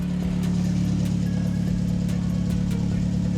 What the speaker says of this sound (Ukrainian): Вихлоп такий громкий, бо вихлопа в мене нема.